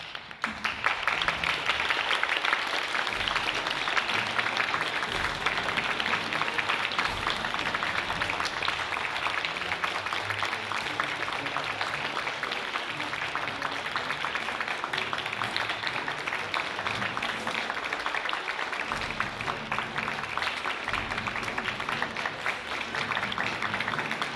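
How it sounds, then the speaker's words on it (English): Audience applause in a hall as judges enter at a closing and awards ceremony, a dense, continuous, even wash of many hands clapping that lasts throughout without a break. "please stand up and give them a big round of applause"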